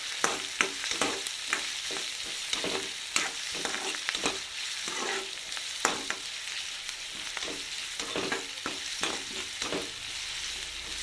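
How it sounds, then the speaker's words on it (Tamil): Onion, garlic and fennel seeds sauté in a pan with a soft steady sizzle, broken by frequent sharp spatula scrapes and taps at an irregular rhythm, close and alone without speech. "இப்போ இந்த மூணுமே நல்லா பொன்னிறமாக வதங்கணும்."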